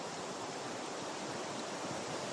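A river spreads over stones, giving a continuous, even broadband rush of flowing water that stays steady throughout with no voices.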